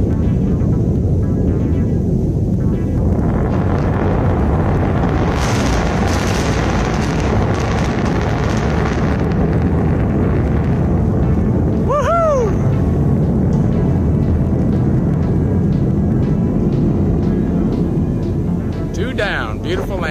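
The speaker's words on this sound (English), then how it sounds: "Double sonic booms." Two landing rocket boosters produce a sustained deep rumble and booming roar, loud and continuous, with excited voices talking over it.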